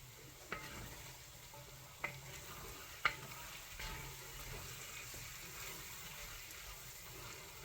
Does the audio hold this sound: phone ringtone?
no